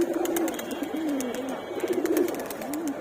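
Male pigeons coo inside a loft, giving repeated low, rolling calls in overlapping bursts, close and clear against a quiet background, with light scratchy rustling mixed in.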